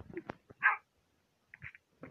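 A small dog, apparently a puppy, makes a few short yips and whimpers in a quiet room, with brief scattered noises around them.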